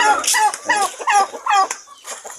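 A hen clucking loudly and close beside a road, a run of repeated short clucks in an uneven rhythm.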